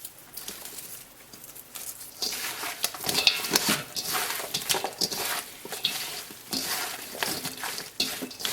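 Sliced cucumbers and onions for bread and butter pickles being stirred together in a bowl, a close, wet, sloshing churn with bright crackly swishes that keep going in uneven strokes and get louder partway through, with no talk.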